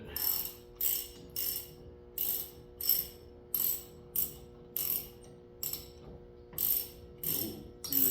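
A ratchet with a 21 mm socket turns lug nuts on a 1994 Toyota Corolla, giving steady, evenly spaced bursts of crisp clicking that repeat about a dozen times, close and fairly quiet.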